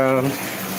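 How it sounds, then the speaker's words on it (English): Tap water gushes steadily into a 5-gallon bucket kept for flushing a toilet during a power outage, a close, continuous rushing pour with a brief voice at the start. "5-gallon water bucket to flush the toilet if need be. And that's getting filled up over there."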